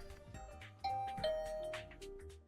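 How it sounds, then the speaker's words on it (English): A doorbell chimes in the video game The Hundred Line, sounding two soft ding-dong tones over quiet background game music. "I rang the doorbell to Tsubasa's room."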